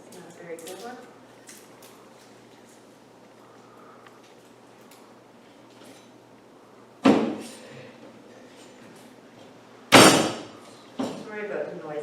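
A knife blade flattening garlic cloves on a loose, wobbly table while cooking stir-fried bok choy, giving two sharp, loud rattling bangs a few seconds apart, followed by a smaller knock, over a quiet room with faint talk at the start.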